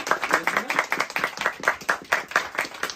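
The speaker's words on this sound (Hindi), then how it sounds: "तो जोरदार तालियों से स्वागत करेंगे सुमन जी का," An audience at a business seminar claps to welcome a woman named Suman as she is called up for a reward, with steady, close, rhythmic clapping throughout.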